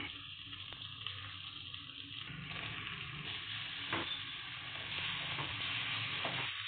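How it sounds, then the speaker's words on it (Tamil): Chicken fries in an oily masala gravy in a pan, a steady close sizzle and hiss with a few stirring clicks and scrapes now and then, no speech over it. "இந்த ஸ்டேஜில் வந்து நம்ம சிக்கன் ஆட் பண்ணிக்கலாம்."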